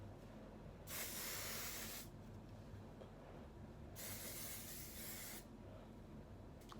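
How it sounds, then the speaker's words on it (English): Two long hissing bursts of hair spray, each lasting about a second, separated by a quiet pause. "I'm spraying the hell out of this hair"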